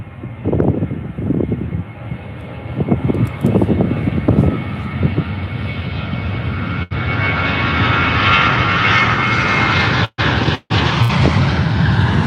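A Transavia Boeing 737-800 jet takes off from Faro Airport bound for Eindhoven. A steady, loud engine roar builds and holds, with a few pulsing bursts early on.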